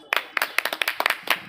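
An outdoor live debate audience in Varanasi claps to welcome the panelists. It is a short burst of crisp, close handclaps at an uneven, quick rhythm, with no talking.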